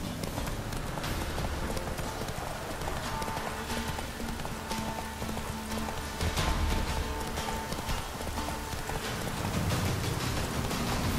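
Roach, Geralt's horse in The Witcher 3: Wild Hunt, gallops steadily with loud, rapid clip-clopping hoofbeats that hold a continuous driving rhythm for the whole stretch, layered over a dense, noisy game soundscape with no voices.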